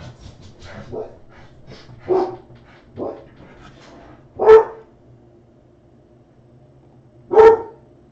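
Dogs bark and whimper indoors as they come upstairs in a house, several short bursts spread across the moment with two louder sharp barks standing out over faint background noise.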